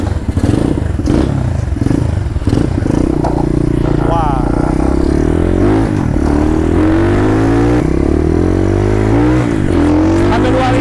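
A Yamaha RXF 125 Freeride motorcycle engine runs close by and loud, idling with rising and falling revs and a mechanical clatter throughout.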